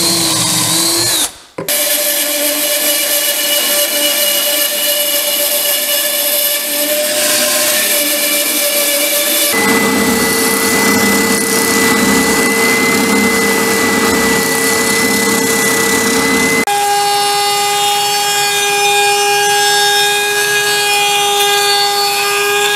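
A power drill drives pocket screws into a cabinet brace for a sewing cabinet with a machine lift, whining loudly and steadily across three long runs with a brief pause near the start and a pitch change between runs.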